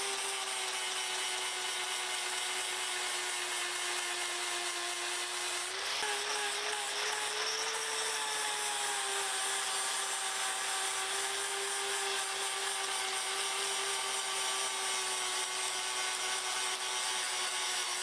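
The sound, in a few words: grinding down a crack in a Thornycroft Antar engine block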